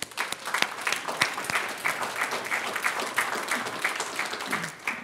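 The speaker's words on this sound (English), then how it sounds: "Let's give a round of applause." Audience applause at a three-day auto business workshop, a steady wash of many hands clapping close and loud for about five seconds, with no talking over it.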